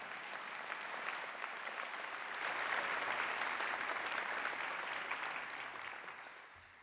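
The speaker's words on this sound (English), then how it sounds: "This is a clapping time." Sustained applause from a sizable crowd at a college president's inauguration ceremony, a dense wash of clapping that swells midway and tapers slightly toward the end, with no talking.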